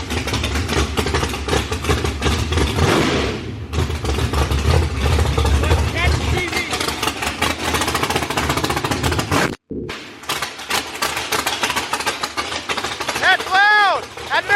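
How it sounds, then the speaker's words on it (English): A nitrous big-block Chevy engine roars on a dyno, a loud, heavy rumble that is sustained and then cut off abruptly. People talk and shout over it throughout, close by. "give me a little throttle whack"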